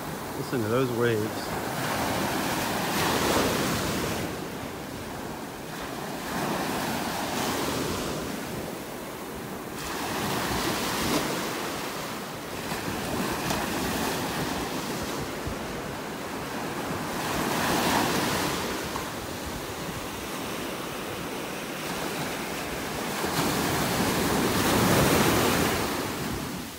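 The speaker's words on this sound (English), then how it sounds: "Listen to those waves." Ocean waves break and wash up on Vanderbilt Beach in North Naples, Florida, a continuous loud surf with periodic swells of crashing water every few seconds and some wind rumbling on the microphone.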